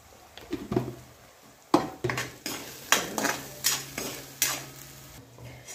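Masala paste with turmeric frying in oil in a pan over low gas while a spoon stirs and scrapes it, giving repeated metallic knocks and scrapes in a steady rhythm over a soft sizzle.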